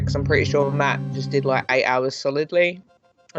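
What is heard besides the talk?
None of the usual background noises is heard.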